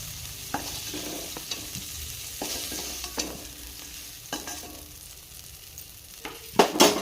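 Ingredients for a paneer curry fry and get stirred in a pan, giving a steady sizzle with irregular scrapes and clinks of the spoon, louder knocks near the end, no voices.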